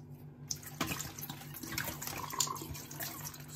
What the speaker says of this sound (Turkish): Suyunu boşaltıyorum.